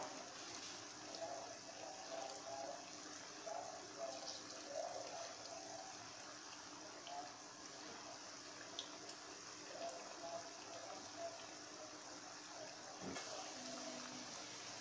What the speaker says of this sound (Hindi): देखिए फ्रेंड्स, हमने तमाम कढ़ाई में पकौड़े डाल लिए हैं।